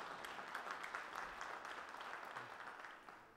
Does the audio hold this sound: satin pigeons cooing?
no